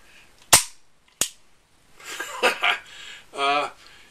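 Two sharp gunshots from a movie or TV scene, loud and close with a brief gap between them, followed by people talking.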